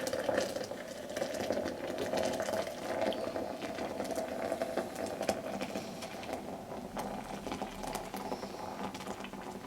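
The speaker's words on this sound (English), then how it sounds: "now I'm going to pour my water in" Hot water is poured steadily into a Bodum Chambord French press over coffee grounds, a continuous close splashing patter that lasts several seconds.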